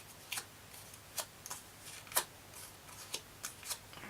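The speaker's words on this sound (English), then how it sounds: "gently folding in my petals so they will stand up a little bit with my bone folder" Paper flower petals being folded and creased with a bone folder on a handmade card give a series of short, crisp papery scrapes and crinkles at an irregular rhythm, close and fairly quiet, with no talking.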